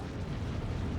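A missile explodes in a space dogfight in SWTOR Galactic Starfighter, heard as a dense, steady low rumbling boom that fills the whole second without any voices.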